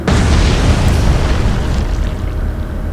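Torpedo striking a ship in the naval war game Atlantic Fleet, a loud, close explosion bursting at once and then rolling into a long rumbling decay over three seconds.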